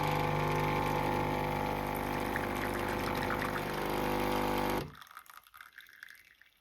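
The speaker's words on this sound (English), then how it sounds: "You should start pouring a bit quicker this time because the machine's already heated up." A L'or Barista Sublime compact coffee machine pumps water through during cleaning, a loud steady humming whir that runs for several seconds and then cuts off abruptly, leaving faint drips and clicks.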